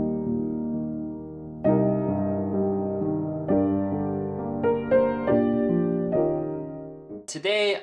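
Piano plays a song as a slow ballad, sustained chords and melody notes ringing close and clear, with a short burst of speech at the very end.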